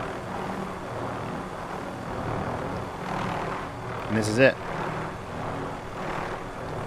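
In Call of Duty Warzone over Verdansk, a helicopter drones steadily with a continuous engine and rotor whir while a person talks over it and a brief game chime sounds.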